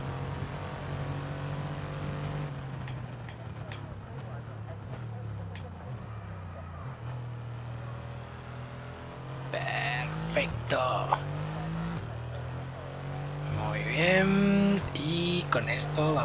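The engine of a Mercedes AMG Petronas F1 car in F1 22 at the Canada track drones loudly, with pitch falling and climbing through gear changes and revs, while someone talks over it.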